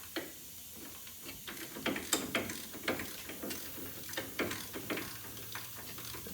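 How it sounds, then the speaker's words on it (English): Bolt being worked out of a 1997–2005 Blazer or Jimmy four-wheel-drive hub assembly: quick, close metallic clicks and ratcheting ticks in an uneven rhythm, like a ratchet wrench turning, over a faint steady hiss with no talking. "you should be able to get this bolt out the rest of the way"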